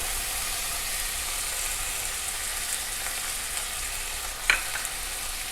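Yogurt, mint, coriander and chili powder sizzle and fry in a pan while being stirred for a gonghura mutton biryani. There is a steady loud hiss throughout, with one brief clink of a utensil near the end.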